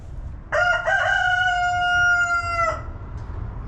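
A rooster on a ranch crows once, loud and close, in a long drawn-out cock-a-doodle-doo that rises and then holds for about two seconds before breaking off, with faint background noise around it.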